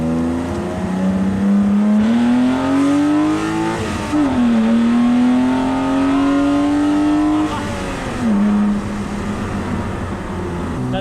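A BMW E36 328ic kart engine accelerating hard, its loud rising pitch climbing through several gear shifts with brief dips between, close and continuous.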